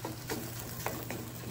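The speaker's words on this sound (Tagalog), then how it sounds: "Igisa natin, isa-isa." Ingredients sautéing in a pan, a steady low sizzle running throughout with a few soft stirring clinks and scrapes near the microphone, no voices.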